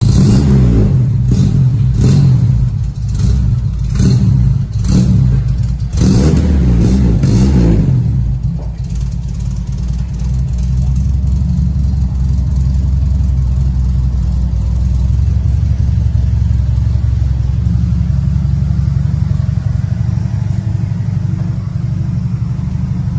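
A Chevrolet Caravan with freshly changed wheels revs hard in a burst of loud, repeated throttle blips, then settles into a sustained, heavy engine roar as it holds for a tire-smoking burnout. No one speaks.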